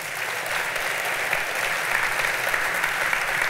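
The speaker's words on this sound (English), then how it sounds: "give a round of applause to Daxco and Fleetio." A keynote audience at a tech conference breaks into a steady wash of clapping that holds even and fairly loud throughout, with no one speaking over it.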